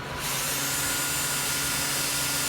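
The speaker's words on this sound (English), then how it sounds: "Drill your main holes here first." A steady, loud power drill whirring continuously as it bores into metal, with a constant grinding hum throughout.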